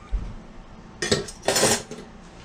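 Metal measuring spoons clink together as one set is swapped for another in a kitchen: a low knock, then two bright rattling jangles, close and clear.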